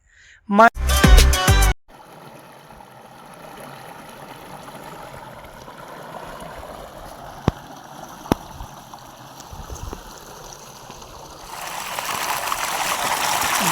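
Water from a pump motor pours into a farm field, making a steady rushing, gurgling flow that runs on after a brief loud burst at the start, with a couple of sharp clicks and the flow swelling louder near the end.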